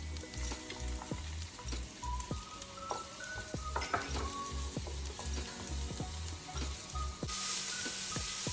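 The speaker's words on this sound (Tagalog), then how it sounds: "Lutuin natin hanggang sa maging translucent ito at makaramelize." Chopped onion sautéing in a pan for chicken tinola, a steady close sizzle with repeated scraping stirs from a utensil at a regular beat and a few metallic clinks, no talking.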